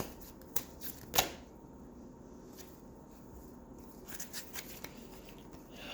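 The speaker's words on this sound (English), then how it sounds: "One more shuffle." A deck of tarot cards is shuffled by hand close to the microphone, with a few sharp riffling snaps near the start and softer scattered card flicks afterward against a quiet background.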